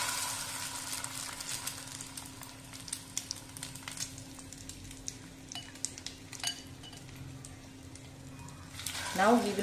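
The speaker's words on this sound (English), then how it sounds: "fry this potato chops till nice golden brown" Potato chops dipped in egg wash sizzle steadily in a hot pan, frying to golden brown, with occasional clinks of utensils, and a voice briefly speaks near the end.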